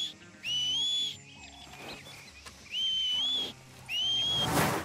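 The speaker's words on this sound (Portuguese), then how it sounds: "Você pode assobiar para chamar o seu cavalo, mas em alguns momentos, se você assobiar muito, o assobio do Arthur falha" Arthur in Red Dead Redemption 2 calls his horse with three separate rising whistles, clear and close, spaced by short quiet gaps over a faint outdoor ambience.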